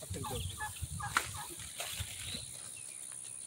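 Turkeys on a small garden homestead gobble in a quick cluster of calls that trails off into quieter chatter, heard from close by over a faint constant whine.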